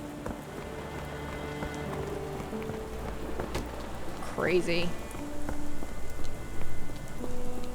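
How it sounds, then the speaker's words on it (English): Steady rain falls in the 2023 video game Sherlock Holmes: The Awakened, a constant hiss of drops on surfaces under a man's brief spoken remark and quiet game sounds. "This dreary rain is making a miserable day even worse."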